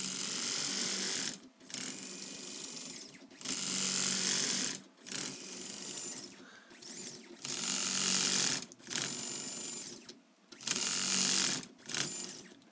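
A RepRap Mendel 3D printer drives its Z axis with two motors turning threaded rods, giving a whirring, ratcheting mechanical buzz in repeated bursts separated by brief pauses.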